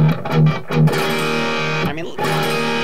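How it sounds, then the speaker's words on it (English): An electric guitar is played with the distortion turned up, sounding a few choppy chords and then a held, sustained chord that carries loud and thick to the end. "I'm going to turn up the distortion just because."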